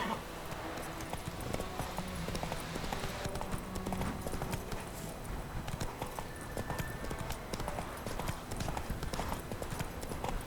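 Steady clip-clop of horse hooves in The Witcher 3: Wild Hunt, a rhythmic run of hoofbeats that continues throughout at moderate loudness beneath faint game ambience.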